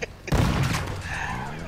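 Gunfire in Call of Duty MW2, a sudden, loud shot that cracks out after a brief quiet beat and rolls into a long, echoing boom that slowly fades.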